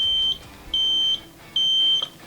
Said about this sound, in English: So to get rid of this beeping, which is a low voltage alarm